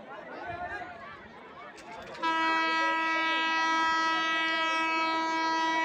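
A train approaching at a station crowded with onlookers, first a low rumble under people's chatter, then a loud, sustained horn blast that holds steady to the end, drowning out the voices.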